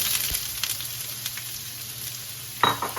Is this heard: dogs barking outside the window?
no